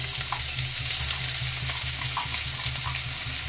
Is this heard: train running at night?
no